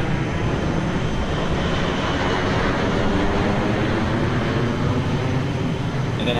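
Steady, loud broadband roar of airliner engine exhaust heard inside the cabin at cruise altitude in Microsoft Flight Simulator, a continuous drone with no talk throughout.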